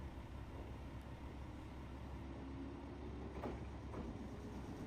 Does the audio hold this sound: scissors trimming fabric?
no